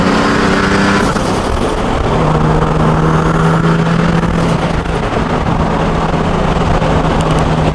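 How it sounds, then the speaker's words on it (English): A turbocharged Nissan 370Z Nismo accelerates hard, its engine a loud, steady droning roar with rising tones, heard from inside the car, no talk over it. "That turbo sounds good."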